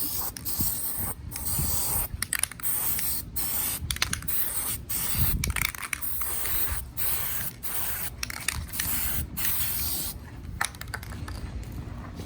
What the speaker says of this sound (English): Next, I'm going to get one of these bottles of spray-a-gasket sealing. This will be sprayed in the little groove where the gasket will sit.